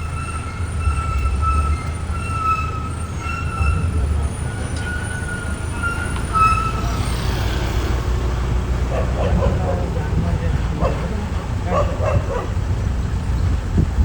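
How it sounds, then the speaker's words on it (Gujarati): A dog barks several times at a distance over the loud, continuous rumble and screech of a passing train. "એ પેલું કૂતરું આવ્યું"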